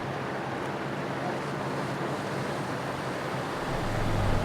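A 4WD vehicle fords the Murray River between Victoria and New South Wales in the High Country near Tom Groggin, a continuous loud wash of rushing water and wind noise with no voices.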